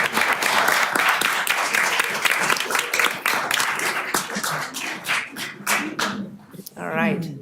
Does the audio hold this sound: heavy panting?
no